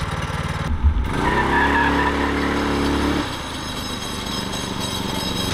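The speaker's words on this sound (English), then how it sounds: "I only have one engine running." A small engine on an AWD four-engine go kart, with only one engine running, drones steadily with a rough buzzing tone and a brief rev that settles to a lower idle, close to the microphone.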